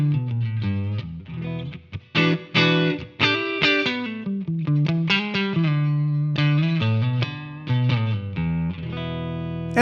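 Electric guitar played on the neck pickup through a Kemper rig loaded with a Dr. Z amp profile, with sustained melodic notes and chords, a warm overdriven tone, and a touch of reverb, loud and alone.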